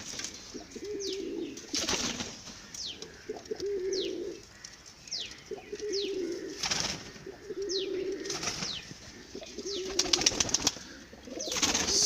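Healthy pigeons coo in repeated soft, low throaty phrases, fairly close, with intermittent wing flaps and faint chirps from other birds behind them.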